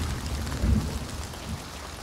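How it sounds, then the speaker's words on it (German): Steady rain falls in the video game Hunt: Showdown, a soft continuous patter with a brief low thump of distant thunder partway through, and no talking. "Was hörst du bei den Regen?"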